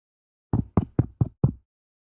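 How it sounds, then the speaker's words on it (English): Five sharp knocks land on a door in a video game, loud and close, in an uneven rhythm after a moment of silence, with nothing else heard. "someone knocking on your door"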